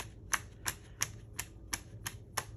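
A card tapped against a table while making Christmas edge cards, giving seven evenly spaced sharp taps about a third of a second apart, close and fairly quiet, with no talking.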